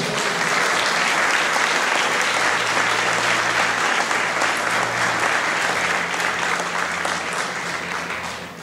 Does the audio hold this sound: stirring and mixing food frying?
no